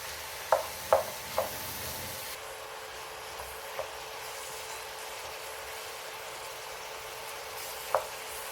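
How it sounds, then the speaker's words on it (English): Carrots and other chopped vegetables cook in a pan for a chicken pot pie filling, with a faint steady sizzle and a few sharp clicks from a spoon stirring near the start and once more near the end. "Give everything a good stir and let it cook for another minute or 2, just until the veg starts to soften"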